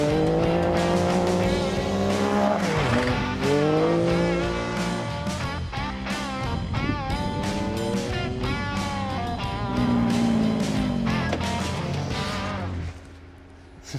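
A Can-Am Baja Bug conversion races through the final turns on a track, its engine snarling loud and close while tires squeal, with revs rising and falling through corners before easing off near the end.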